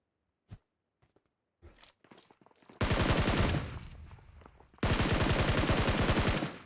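PUBG Mobile match: a few scattered footsteps and clicks, then two long bursts of rapid automatic gunfire, loud and close, while a grenade is thrown at an enemy.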